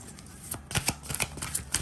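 Tarot cards being shuffled by hand and drawn, a run of crisp papery riffles and slaps that come in quick bursts, close and moderately loud, with no talking.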